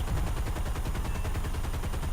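Rapid, continuous aircraft cannon and machine-gun fire in a flight combat video game, a dense steady chatter of shots over heavy low engine rumble, loud and unbroken with no talk.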